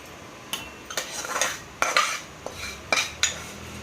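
Spoon scraping and stirring in a pot of milk with fried vermicelli, a series of sharp clinks and scrapes at uneven intervals, close and moderately loud with no talking.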